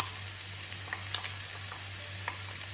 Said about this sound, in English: frying onions